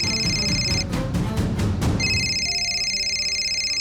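A high electronic telephone ring trills steadily, pausing briefly in the middle before sounding again, over a busy low background hum.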